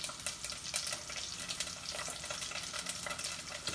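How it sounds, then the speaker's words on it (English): Padrón peppers, about a dozen, sizzle and pop in hot oil in a pan, a soft continuous crackle with scattered small pops and stirring noises, fairly faint and close. "When you hear them pop and sizzle, you stir them around, and they will pop and sizzle."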